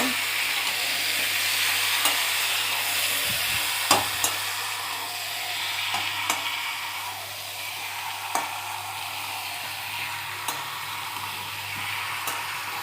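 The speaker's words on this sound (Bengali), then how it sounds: "ভালো করে মাংসটা মিক্স করে নিলাম মশলা দিয়ে" A spoon scrapes through chicken pieces mixed with cumin, ginger, garlic and chili paste. Light clicks and scrapes come every couple of seconds over a constant soft hiss.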